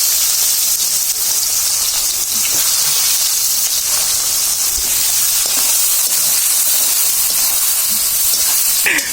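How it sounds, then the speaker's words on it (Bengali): Onions frying in a pan for a prawn dal and dried-fish meal, a loud continuous close hiss and sizzle that holds steady throughout with no talking. "পেঁয়াজটা আমরা আরেকটু ভেজে নিব"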